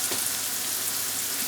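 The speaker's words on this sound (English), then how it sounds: "It just needs frying out just a little bit more." Onions fry in a pan for tarka dal with a steady, close, crackling sizzle that holds at an even level throughout, with no talk over it.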